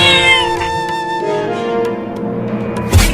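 A cartoon cat meows loudly and insistently in a drawn-out, wavering cry that trails off and then rises again, heard alone and close up with no voices over it.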